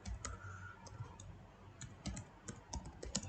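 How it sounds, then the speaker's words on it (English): Quick irregular key taps and clicks on a computer keyboard, close and fairly quiet, as a short message is typed in a continuous run. "So let's type something in here."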